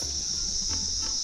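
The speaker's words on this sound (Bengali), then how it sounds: "ঝিঝি পোকার ডাক" Crickets chirping steadily along a hill path toward Sillery Gaon, a continuous high-pitched trill with faint background rustle.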